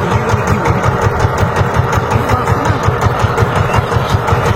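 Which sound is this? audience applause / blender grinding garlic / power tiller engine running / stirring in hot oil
power tiller engine running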